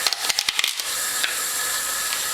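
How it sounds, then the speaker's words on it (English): Diced ham hits a hot pan and starts to sizzle, a brief flurry of sharp crackles and spits settling into a steady bright hiss. "It's starting to sizzle, as you can see right there."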